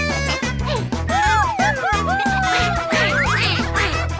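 A voice imitates a duck, quacking repeatedly over a bouncy rhythmic music beat, loud and upbeat with playful sliding sound effects.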